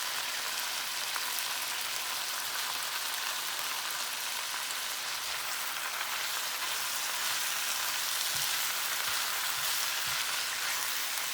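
Chopped vegetables for a frittata sizzle and cook down in a pan, giving a dense, continuous hiss at steady volume throughout with a few faint low bumps.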